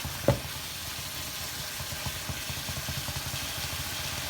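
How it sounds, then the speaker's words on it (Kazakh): Meat and onion sizzle steadily while stir-frying in a cauldron for lagman, a continuous close frying hiss with soft rhythmic stirring scrapes and one sharp knock near the start. "Енді екеуін жақсылап араластырып қуырамыз."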